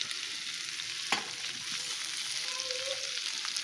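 Chopped cabbage and capsicum sizzle steadily in a hot pan for homemade noodles, a dense continuous frying hiss with one brief stir clatter and no talking.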